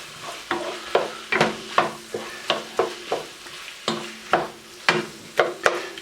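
Green chilies and sausage being stirred in a hot skillet, a spoon scraping the pan in repeated strokes over a steady sizzle, close and clear with no talking.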